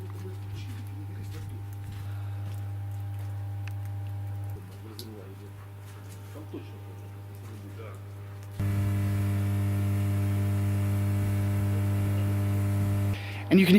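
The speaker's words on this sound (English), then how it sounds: "you can hear the hum of this transformer working right here behind me" An electrical transformer at civilian power infrastructure in Donetsk hums steadily and low, a constant drone that carries through the whole stretch and grows louder partway through, with faint ticks and rustles over it.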